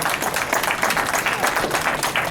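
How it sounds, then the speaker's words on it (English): A community association audience at a civic event in New York applauds with dense, steady clapping from many hands, close and lively throughout. "A big round of applause to you, of the Liberian Community Association here in New York"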